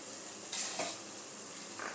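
Spice paste frying in oil in a pan for a cauliflower roast, a close hissing sizzle that swells briefly as a lid comes off, with a faint clink of metal.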